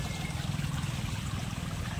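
Strong rainwater flow near the Godavari during heavy rain gives a continuous close rushing wash with gurgling, steady in level throughout.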